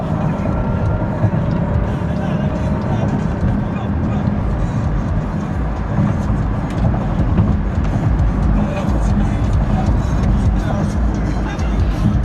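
A car drives in fast-lane traffic behind a BMW, with a steady loud rumble of engine and road noise throughout and someone talking over it.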